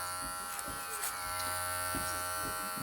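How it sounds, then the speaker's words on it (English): Electric hair clipper run over a comb during a home haircut, a steady close buzz with faint ticks and brief shifts as it passes through the hair. "your clipper is going over the comb and you're graduating it down into that number 4"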